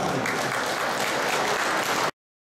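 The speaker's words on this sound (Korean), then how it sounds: "여러분 큰 박수로 환영해 주시면 고맙겠습니다" A ceremony audience applauds at the opening of a Seoul photography festival, welcoming a speaker with dense, steady clapping that holds at full strength for about two seconds and then cuts off abruptly, with no voices heard.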